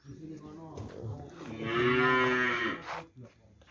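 A male Pegon bull lows nearby, one drawn-out moo that swells and fades, with a faint voice in the background.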